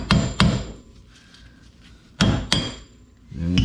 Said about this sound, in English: we just simply used a hammer to tap out the hub because of corrosion